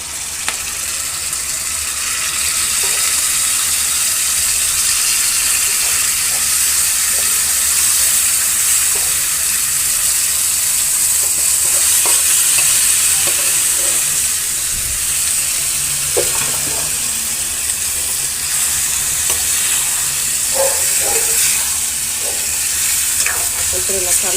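Chicken coated in yogurt hits a hot pan and sizzles steadily and loudly, with scraping stirring strokes breaking through the continuous frying hiss.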